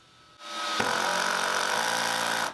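A power drill with its clutch set buzzes loudly for about two seconds while driving a screw, a steady grinding whir that starts abruptly and cuts off at the end.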